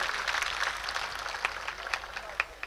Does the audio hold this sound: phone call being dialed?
no